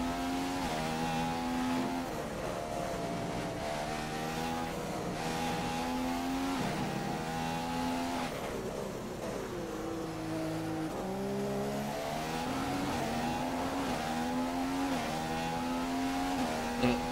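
A McLaren Formula 1 car's engine in the F1 2015 video game on the Bahrain track screams loud and close, rising through the gears with repeated upshift and downshift sweeps as it brakes and accelerates.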